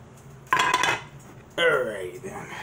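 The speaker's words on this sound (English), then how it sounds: "Where's my spoon that I just used? Hey, get all that tuna fish out." A metal spoon scrapes and clanks inside opened tuna cans in a kitchen, two short loud bursts of grating metal with a pause between, a voice briefly audible near the end.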